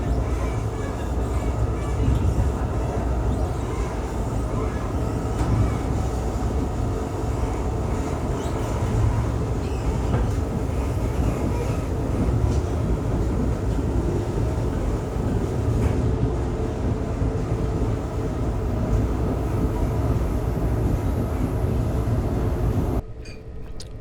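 Continuous rumbling roar of a Brightline high-speed passenger train on the track to Orlando, heard from inside, steady and loud with no talking.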